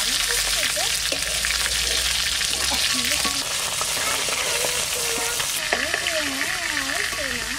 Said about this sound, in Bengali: মাছ কাটা ভাজা এসে তুলে নেবো